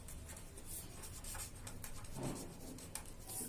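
A marker writes on a board while a linear graph is drawn in a class 8 maths lesson, a faint steady scratching and rubbing heard close and alone.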